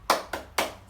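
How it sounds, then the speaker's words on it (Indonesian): Schoolchildren doing a rhythmic spirit clap in class, three sharp claps in quick succession, close and clear. "Kita tepuk semangat dahulu ya."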